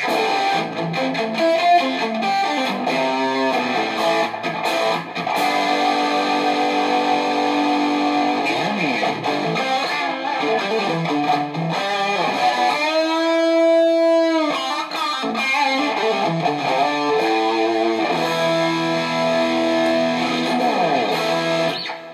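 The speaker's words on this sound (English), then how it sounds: "then for a little bit more distortion, you can hear this kind of sound." A heavily distorted electric guitar through a tube amp and modeling device plays sustained chords and riffs, loud and gritty, with a brief ringing tone in the middle and no talking.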